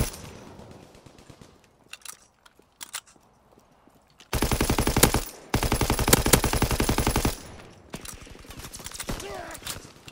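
Rapid automatic gunfire in a first-person shooter video game, with scattered single shots early, then long, loud, sustained bursts of fire near and continuous, broken by short pauses.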